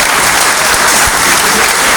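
Audience applause at the inauguration of the Cambrai funfair, August 2023, honouring the mayor: a dense, steady wash of clapping from a sizeable crowd, loud and close, with no talking over it.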